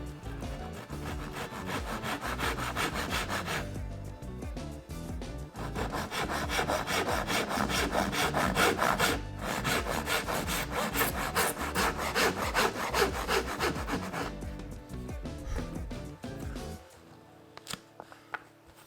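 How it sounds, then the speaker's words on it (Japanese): A fine-toothed razor saw, a hand saw suited to plywood, cuts through wood in steady rapid rasping strokes, close and loud for most of the stretch with a brief pause, then stopping near the end. "この手のこはレザーソーっていう手のこで、 合板なんかを切ったりするのに適している目の細かいものです"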